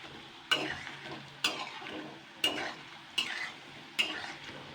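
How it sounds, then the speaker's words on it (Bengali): Banana flower fritters in gram-flour batter fry in hot oil with a steady low sizzle, while a utensil scrapes or clacks in the pan about once a second, five distinct strokes, close and fairly quiet, with no talking. "এটা কিন্তু ভাজা হয়ে গেছে"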